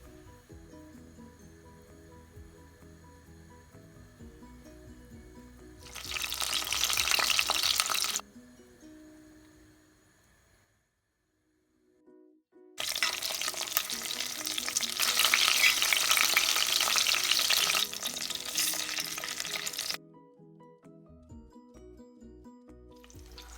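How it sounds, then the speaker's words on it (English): Loud bursts of oil sizzling and spitting as stuffed eggplants shallow fry in a pan, fading between surges and returning strong, with a low background hum throughout. "we will gently place all the eggplants, the stuffed eggplants, into the pan and start shallow frying them"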